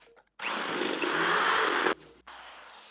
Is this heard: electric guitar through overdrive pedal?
no